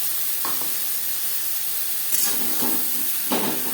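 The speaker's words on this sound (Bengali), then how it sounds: "ছোলার সাথে মশলা বেশ ভালো করে মিক্স করে দেবো" Chickpeas in a frying pan are stirred together with a paste of coconut, ginger and green chilli. A steady close hiss of frying carries a few separate scraping strokes, with no speech.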